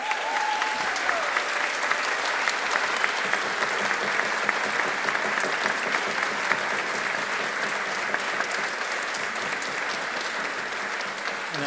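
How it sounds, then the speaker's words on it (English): An audience at a vocal performance event gives sustained, dense applause that holds steady and full for the whole stretch, with no voices over it. "so I think they need another huge applause."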